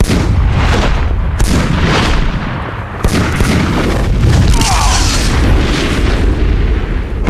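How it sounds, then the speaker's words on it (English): Weapons firing in a Superman animated film battle, a dense barrage of booming blasts and explosive bursts, loud and continuous with repeated heavy impacts and no talk. "Commence firing."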